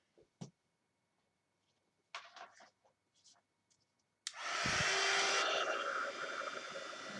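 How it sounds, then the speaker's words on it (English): A heat tool switches on and blows hot air onto acetate pieces, a loud steady rushing roar that starts abruptly after a few quiet taps and faint clicks and then continues close up. "let's just get my heat tool on these"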